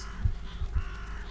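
Crows caw in the video game The Vanishing of Ethan Carter, a few low rough calls close together over a dim ambient wash, with no voices.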